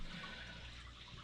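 A basement sump pump runs during heavy rain, giving a steady, close whoosh of moving water over a low motor rumble that holds even throughout with no voices.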